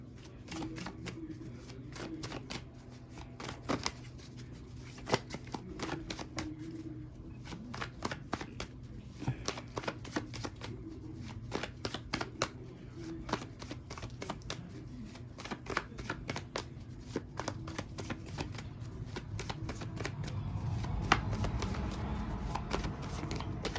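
Tarot cards shuffle close by in a fast, steady riffling patter that continues throughout, quiet and with no talking.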